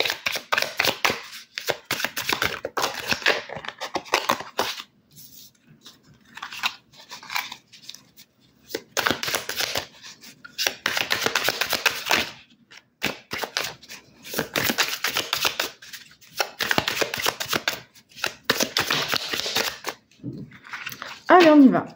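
Tarot cards shuffled and cut by hand, a run of crisp papery riffles and snaps close to the microphone, broken by brief pauses and a few quiet stretches, with a voice speaking at intervals.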